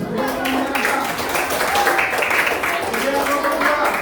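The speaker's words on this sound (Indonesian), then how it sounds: "Kasih tepuk tangan dulu." Children in a classroom clap their hands together in a sustained round, mixed with voices and chatter throughout.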